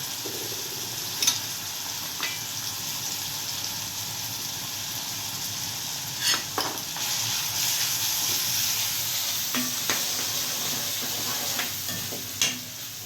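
Curry leaves, dry chillies and onion sizzle steadily in hot oil for a khichdi tempering, a constant close frying hiss with occasional stirring scrapes and pops.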